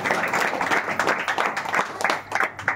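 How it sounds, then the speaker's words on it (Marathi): Brief burst of dense audience clapping at a school student award ceremony, loud and even, with no voice over it. "तर जोरदार टाळ्या पुन्हा या सर्वांसाठी."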